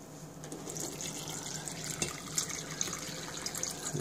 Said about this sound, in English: I'll just take the jug of seawater